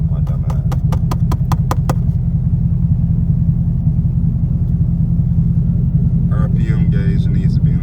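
A straight-piped Chevrolet Camaro rumbles from inside the cabin with a steady, loud, deep exhaust drone, a string of sharp ticking pulses in the first two seconds and a brief rattling burst near the end.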